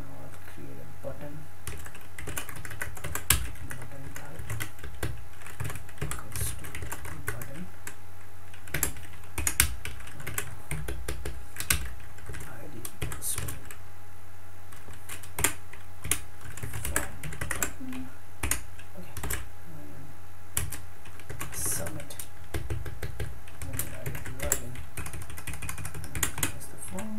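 Someone types HTML code on a computer keyboard, a steady run of soft key clicks with irregular louder taps over a low background hum, with occasional speech mixed in.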